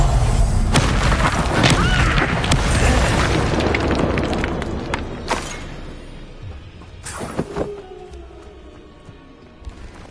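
An explosion spell cast in Hogwarts Legacy sets off loud, booming blasts with rumbling tails, and a few sharper, fainter thuds and crashes follow as the din settles.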